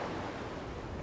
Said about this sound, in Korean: 섬 사람들의 마음을 아는지 모르는지 풍랑이 치기 시작했다